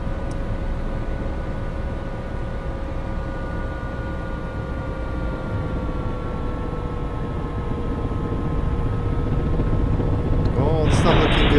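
A Bell 407 helicopter in the X-Plane 10 flight simulator drones steadily with a constant rotor and turbine hum and broad noise, ending in a short louder burst.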